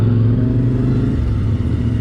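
Loud motorcycle engines rumble close by, a steady, heavy low drone that runs through the whole moment.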